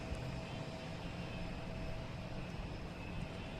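A Boeing 777 arriving from London Heathrow produces a steady, faint, distant jet engine roar with no change in level across the short stretch.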